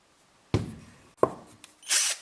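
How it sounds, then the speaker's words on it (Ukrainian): Vitals Master AUmo 10nli cordless screwdriver driving screws, with three short bursts of motor whir separated by pauses and close to the microphone. "ви бачите, шурупи вкручує доволі швидко."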